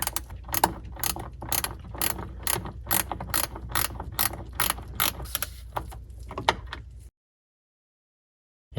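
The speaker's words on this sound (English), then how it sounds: "that ratcheting feature of the wrench is going to come in very handy at this step" A ratchet wrench loosens a nut on a boat trim solenoid, making a rapid series of close, crisp clicks in quick repeated bursts that end abruptly in silence.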